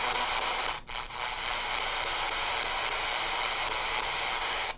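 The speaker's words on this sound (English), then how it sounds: "I also have what's called a random noise generator" A random noise generator on a modular synthesizer gives a steady, loud broadband hiss that fills the whole clip, broken by one brief dropout near the start.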